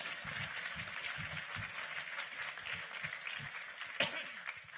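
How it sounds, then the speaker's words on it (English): Audience applause after a sock-puppet show: a faint spatter of clapping over a steady noisy background, with one sharp louder clap near the end. "Round of applause."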